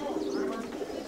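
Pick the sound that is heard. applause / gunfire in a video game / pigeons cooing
pigeons cooing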